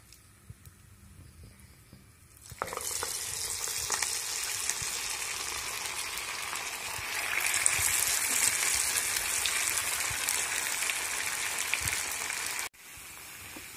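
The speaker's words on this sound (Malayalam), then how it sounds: "എണ്ണ ചൂടായിരിക്കുകയാണ്. ഇതിലേക്ക് നമുക്ക് ഉള്ളിവട എടുത്തിട്ട് കൊടുക്കാം." Onion vadas drop into hot oil in a home kitchen, starting a steady sizzle that grows louder midway and cuts off abruptly near the end.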